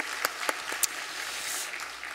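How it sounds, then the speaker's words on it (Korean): A church congregation applauds the choir at a Sunday service. Scattered claps are heard against a soft, diffuse wash of applause, distant and fairly quiet, with no talking. "우리 찬양대 위에 박수 한번 하겠습니다."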